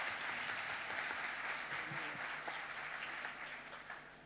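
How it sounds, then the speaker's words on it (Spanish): Steady, dense applause from a conference audience at a healthcare event on recycling and reducing waste in health care, sustained and fairly even throughout before tapering slightly at the end. "Un fuerte aplauso para Nuria, por favor."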